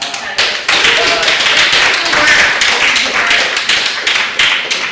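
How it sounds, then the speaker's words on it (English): Audience at a book launch event for a Chinatown mapping project breaks into applause, a dense burst of many hands clapping, loud and close, sustained for several seconds. "I would just think that definitely deserves a lot of applause"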